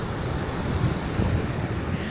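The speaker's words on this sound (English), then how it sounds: "That's the wind." Wind buffeting an outdoor microphone, a steady low rumbling roar with gusty swells that runs through the whole stretch, close and fairly loud with no voices.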